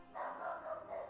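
A dog gives a single short bark-like yelp at a distance, fairly faint and muffled, with no talk over it.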